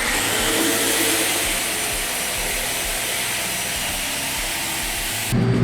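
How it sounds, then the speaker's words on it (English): A Festool Rotex sander in rotex mode rough sands a wooden tabletop with 40 grit paper, a close, steady whirring grind with scraping texture that shifts briefly at the end. "I'm just going to hit this with some 40 grit real quick on Rotex mode to get the high spots off"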